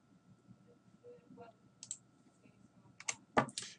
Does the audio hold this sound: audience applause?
no